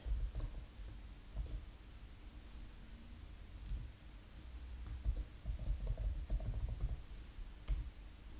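A username and password are typed on a computer keyboard in a quiet room, as soft close clicks in irregular bursts with brief pauses between them and no voices.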